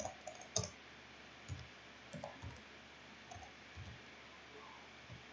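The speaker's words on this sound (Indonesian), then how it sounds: "Coba kita ketik ini." Faint, sparse clicks of typing on a computer keyboard, a few isolated keystrokes spaced out over quiet room hiss.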